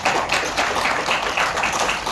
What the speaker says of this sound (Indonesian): silakan tepuk tangan Pak